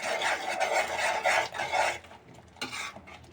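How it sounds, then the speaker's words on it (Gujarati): A spoon scrapes steadily through fried fenugreek leaves in a pan for a garlic-fenugreek dish. Close, rhythmic rasping strokes with no talk stop briefly, then one more short scrape follows. "તો હવે ભાજી આપણે એડ કરી દઈશું અંદર. એને આપણે હવે હલાવી નાખશું."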